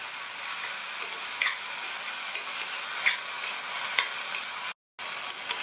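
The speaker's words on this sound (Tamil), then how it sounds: "மூடி போட வேண்டாம், ஓப்பன்லேயே வச்சு நல்லா வதக்கி விட்டுக்கோங்க." Banana flower sautéed with salt in an open pan gives a steady, even sizzle, broken by a few light stirring taps and one brief dropout near the end.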